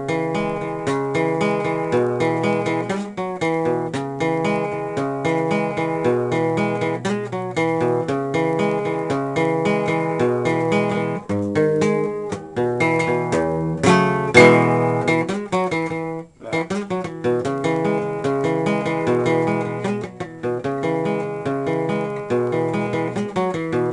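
Acoustic guitar in open E tuning plays a steady, rhythmic strummed pattern, loud and continuous with a few sharper accented strokes, no voice.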